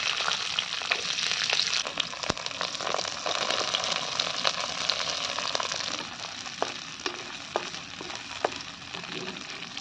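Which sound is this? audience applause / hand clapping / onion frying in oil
onion frying in oil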